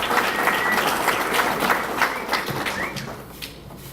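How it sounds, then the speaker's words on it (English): Audience applause for a scholarship recipient at a memorial banquet, a steady wash of many hands clapping at moderate volume throughout, tapering slightly toward the end. "Give Devea a round of applause, please."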